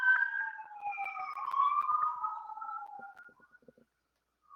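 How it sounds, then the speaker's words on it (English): A wailing siren sweeps up and down, fairly close at first, then fades away as it passes, leaving near silence at the end. "the sirens are coming by right now"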